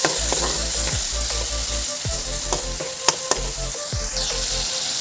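Spice paste with turmeric fries in oil in a pan, crackling and sizzling steadily up close, with a few scraping stirs and occasional sharp pops.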